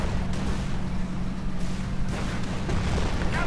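Heavy rumbling battlefield din from a Company of Heroes Eastern Front mod match, with a shell striking the rear armor of an IS-3 tank amid continuous low booms and gunfire, loud and dense throughout with no talk.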